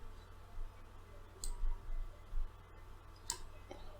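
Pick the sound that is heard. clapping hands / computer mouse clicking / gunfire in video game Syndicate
computer mouse clicking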